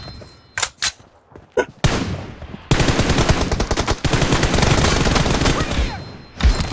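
Gunfire in a Yakuza video game: a few sharp isolated shots, then dense rapid bursts of automatic fire that build into sustained, loud volleys with a final heavy blast.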